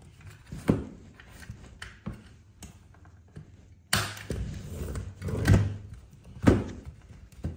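A door and window are locked indoors: a series of faint wooden knocks, latch clicks and sliding thuds spaced irregularly, with one sharper bang midway and quiet movement between.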